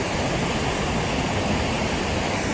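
Brooks Falls pours with a dense, constant roar of rushing water, loud and unbroken, with no voices over it.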